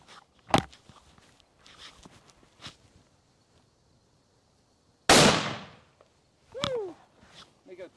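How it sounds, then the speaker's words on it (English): A 416 Remington Magnum rifle fires a 400-grain bullet outdoors: one sharp, loud, close report that decays over about a second. Scattered knocks come before it, and a short whoop and movement follow. "This is a 416 Remington Magnum. It is shooting a 400 grain bullet"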